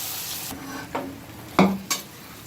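Khaman and green chillies stirred in hot oil in a pan for vati dal Surti khaman: a soft sizzle runs under a few distinct scraping stirs, close and alone.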